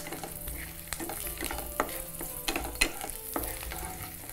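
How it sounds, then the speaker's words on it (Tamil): Garlic sautéing in a pan for a South Indian dish, stirred with a spatula: steady close sizzle broken by repeated scraping clacks and stirring strokes, no voices. "அதனால் பூண்டு கூட வந்து அதிகம் ரோஸ்ட் ஆகாமல் சரியானபடி லேசான ப்ரௌன் வர அளவுக்கு வதக்கிக்கோங்க."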